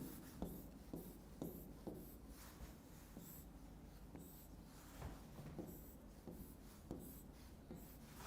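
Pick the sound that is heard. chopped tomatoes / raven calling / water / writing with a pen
writing with a pen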